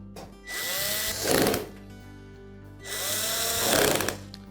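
A power drill runs in two bursts, each winding up and then bogging down as it drives screws home on a Frigidaire oven range, close and loud with no talking.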